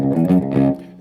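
A clean electric guitar chord played with no distortion or effects, from a Mad Max-inspired studio session, struck and restruck so it rings warmly for about a second before starting to fade.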